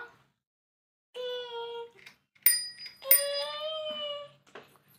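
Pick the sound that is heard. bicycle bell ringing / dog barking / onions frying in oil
bicycle bell ringing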